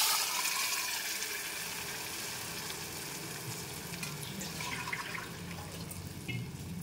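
Water pours steadily into a pot of pepper rasam with a broad rushing splash, continuing for several seconds under faint kitchen sizzling.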